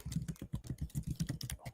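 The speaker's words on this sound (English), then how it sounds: "I can hear you typing." Fast, quiet typing on a computer keyboard, a dense irregular patter of key clicks heard faintly but clearly on its own.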